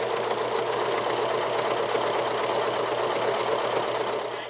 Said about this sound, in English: So I run my second row of zigzag stitching just about 1/4 of an inch above my first row